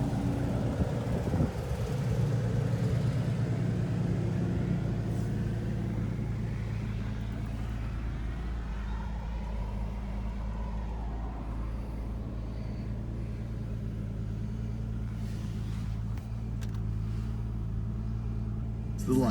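A used automatic 2009 Ford Mustang with the V6 and about 166,000 miles idles with a steady low rumble that holds for the whole stretch.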